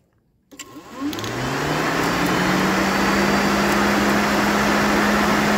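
An aftermarket electric cooling fan on a Ford F-150 pickup switches on and spins up to high speed, rising from silence into a loud, steady whooshing roar with a low hum that holds constant.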